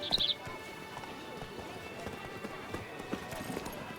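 A horse gallops in The Witcher 3: Blood and Wine, its hoofbeats a steady, busy clatter under a dense game soundscape of music and ambience, with a brief louder burst at the start.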